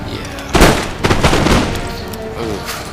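Musket volleys in Empire: Total War at point-blank range, a couple of booming crackling volleys with rolling echoes, mid-distance and loud over battlefield din.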